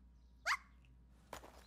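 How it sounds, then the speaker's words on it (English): A cartoon dog in the Chainsaw Man anime gives a single short, cute yelp-like bark, followed about a second later by a brief thump, with no talking. "The cute little bark."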